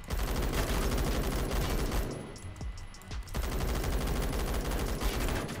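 Rapid, dense bursts of MG36 machine gun fire in the Phantom Forces shooter game, loud and close, with a brief lull midway before the sustained automatic firing resumes.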